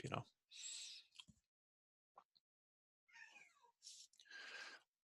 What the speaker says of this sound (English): Here's my cat Luna if you need something to look at